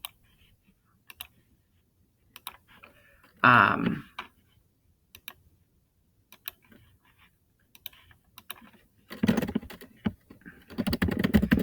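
Sparse clicks of fingers typing on a computer keyboard, with a louder burst of activity around the middle and a busier run of keystrokes near the end, otherwise mostly quiet between taps.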